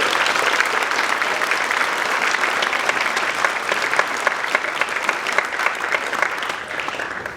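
Sustained audience applause following a school band's winter concert performance, thick and even clapping from a large crowd that holds steady for several seconds before easing slightly at the end.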